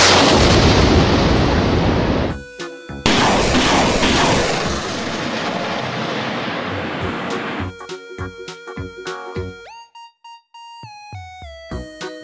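A military rocket launcher truck fires loud, rapid booming launches that roar in a dense barrage, pause briefly, then resume before fading into scattered sharp clicks and tones.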